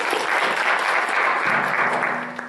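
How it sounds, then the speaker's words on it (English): Audience applause at a Georgetown business school social enterprise event, full and steady, loud and close, thinning slightly at the end, with a faint low voice coming in partway through. "Shreya, let's applaud."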